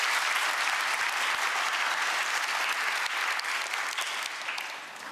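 Dense, steady applause from a large audience fills the whole stretch at a Korean government policy-planning committee report event, loud and continuous with no break.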